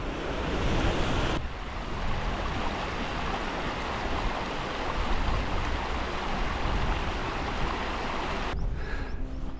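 A beck in the Lake District fells near Stonethwaite rushes as a steady, close, broadband wash of flowing water, continuous and fairly loud, with some wind buffeting at the microphone.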